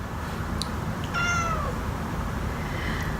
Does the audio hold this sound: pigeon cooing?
no